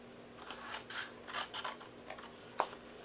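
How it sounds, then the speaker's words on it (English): Scissors snip through paper while shaping a Christmas treat bag, a series of soft, crisp cuts close by in a quiet room, with one sharper snap near the end. "on the shorter side here, you're going to cut off this rectangle here."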